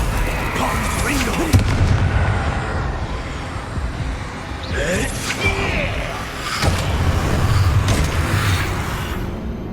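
Confringo blasting-curse explosions burst during a spell duel in Hogwarts Legacy, several loud booms and crackles spread across the scene amid combat effects, with voices shouting over the action.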